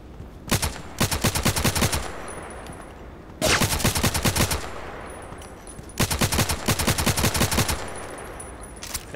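RFB rifle fire in the shooter game Contract Wars comes in three rapid automatic bursts, each about a second and a half long, crisp and loud with quieter ambience between them.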